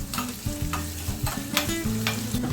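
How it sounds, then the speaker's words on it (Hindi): Garlic browning in ghee with cumin and asafoetida in a pan for Punjabi kadhi sizzles steadily and close, with repeated spoon stirring and scraping against the pan, with no talking. "लहसुन को थोड़ा सा ब्राउन कर लेंगे।"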